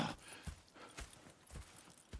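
Horse hooves clip-clop in Red Dead Redemption 2, a soft, even walking rhythm of muffled thuds, faint and distant.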